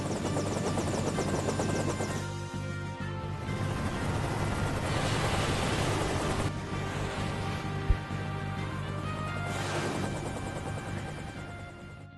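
An airship from the Final Fantasy IV video game lands at a castle, a steady whirring, droning engine hum that swells and fades in waves across about twelve seconds, with no voices over it.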